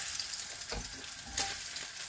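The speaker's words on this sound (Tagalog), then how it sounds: "Nilagay natin sibuyas. Simpleng ano lang ito. Simpleng gisa" Onions sauté in a pan for a simple gisa, a dense, steady sizzle with soft stirring scrapes and a brief brighter hiss near the end, close and continuous without talk.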